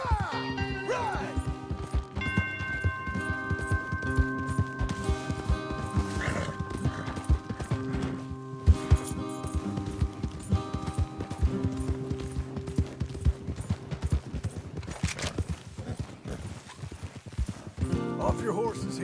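Horses galloping in Red Dead Redemption 2, rhythmic hoofbeats with occasional neighs and clattering impacts, set under a musical score and spoken dialogue throughout.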